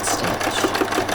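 A sewing machine back stitches across the seam of a skirt on a Christmas party dress, giving a short, steady mechanical whir with quick repeated stitching pulses, close and alone.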